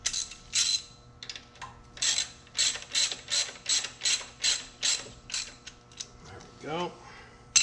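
A ratchet clicks in rapid bursts while tightening valve cover guard bolts on a BMW R1250 motorcycle, about a dozen close, crisp ratcheting strokes with a brief squeak near the end.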